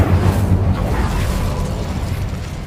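Incendio fire spell cast in Hogwarts Legacy, a loud, sustained roaring burst of flame with a heavy low rumble that holds for a few seconds without easing.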